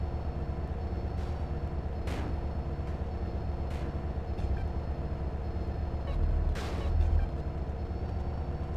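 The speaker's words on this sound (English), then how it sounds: "Go check out the train, CJ." Train rumbling past in GTA San Andreas Definitive Edition on Nintendo Switch: a dense, steady low-pitched drone and clatter throughout, with honk-like horn tones and sharp clanks, swelling briefly near the end.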